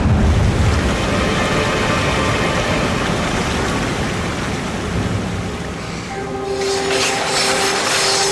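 Train in an animated children's adventure series rumbling loudly and continuously along the tracks, near a waterfall, with a sustained horn blast entering toward the end.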